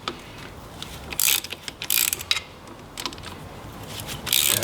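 A ratchet clicks while undoing loosened bolts on an MGB rear axle, coming as several short, close bursts of rapid metallic ticking separated by brief pauses.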